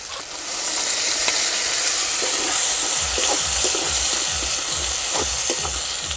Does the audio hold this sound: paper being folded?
no